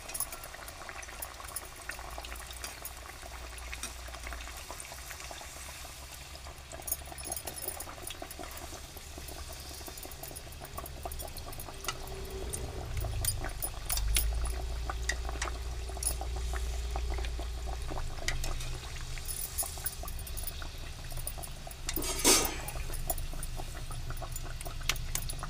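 Pumpkin gharge frying in hot oil, a steady close sizzle and bubbling that continues throughout with no talk.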